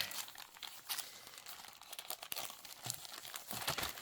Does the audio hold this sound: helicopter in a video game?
no